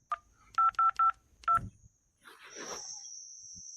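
A short series of telephone keypad tones, one beep followed by four quick evenly spaced beeps and another, then a rising ringing hiss.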